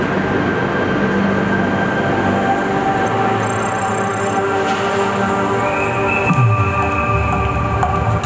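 A TGV Inouï high-speed train rolls along with a steady rumble of wheels and a constant hum. A brief squeal and a falling tone come near the end. Nobody speaks over it.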